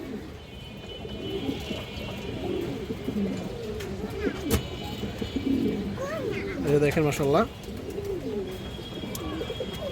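High-flyer Chuina pigeons cooing softly in a loft, low repeated warbling coos near and fairly quiet, with someone speaking over them.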